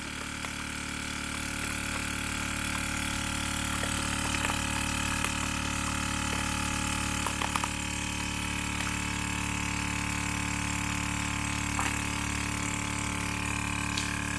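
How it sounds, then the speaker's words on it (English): A Foodshield universal vacuum sealer pumps air out of a coffee bag with a steady, fairly quiet motor drone that holds unchanged from start to finish. "I click on start. It sucks out all the air."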